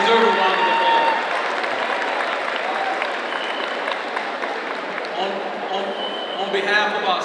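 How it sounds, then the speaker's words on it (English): Steady audience applause for new teachers and staff members standing at a school district back-to-school convocation. The clapping is even and fills the full seven seconds, with scattered voices mixed into the crowd. "They deserve a round of applause."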